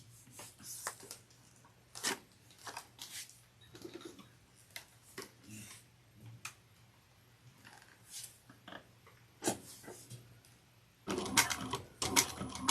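A sewing machine top stitching a bag, bursts of rapid mechanical stitching separated by pauses, with a louder, busier run near the end.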